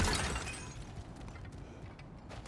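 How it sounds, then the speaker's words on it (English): Objects smashing apart in the video game God of War Ragnarök, a loud crash at the start that fades into a lower crumbling, debris-like texture, with a second burst of impact near the end and no voices. "back to smashing through things for fun and profit"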